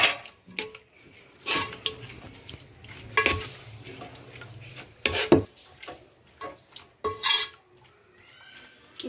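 A spoon mixes chicken biryani ingredients with mint and coriander in a pot, giving irregular close scraping and clinking strokes of moderate loudness, with pauses between stirs.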